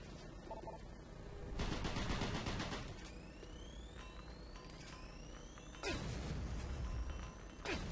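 Rapid gunfire bursts in the shooter game DOOM 3, loud and sustained with a few sharp louder shots, over rising synthetic whine tones and a dense game soundscape.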